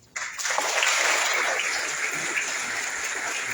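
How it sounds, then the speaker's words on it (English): Applause from an audience at a formal event with Timor-Leste's President José Ramos Horta, a dense wash of clapping that starts abruptly after a brief silence and holds steady to the end. "Everyone, please give a big round of applause."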